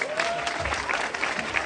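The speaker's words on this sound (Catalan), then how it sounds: "sisplau, un aplaudiment." Crowd applause welcoming a guest singer at an outdoor town fair in Begur, a steady wash of clapping throughout with no pauses.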